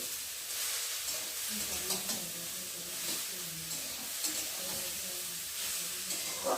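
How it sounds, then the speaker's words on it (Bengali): Potatoes sizzle steadily in a hot pan, a continuous bright hiss with occasional stirring scrapes and faint clatter. "দেখো আমি এখন বীজটা আলু ভাজা করছি"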